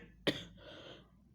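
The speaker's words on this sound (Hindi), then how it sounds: "खांसी पता नहीं क्यों आने लगा है" A single sharp cough from a man, loud and close, ending in a short trail of breath and room noise, with no talking around it.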